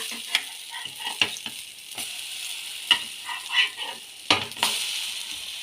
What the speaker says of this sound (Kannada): ಮೀಡಿಯಂ ಫ್ಲೇಮ್ನಲ್ಲಿ ಇಟ್ಕೊಂಡು ಇದನ್ನು ಫ್ರೈ ಮಾಡ್ಕೊಳ್ಳೋಣ